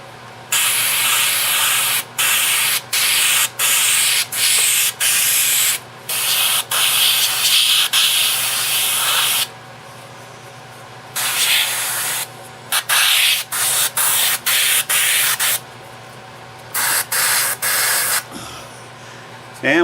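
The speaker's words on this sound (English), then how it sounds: "we'll give it our airbrush with lacquer in it" An airbrush sprays lacquer onto a utility knife in repeated bursts of steady hiss, each a second or two long and separated by brief pauses, with one long continuous spray early on; the sound is close and loud, and no one talks.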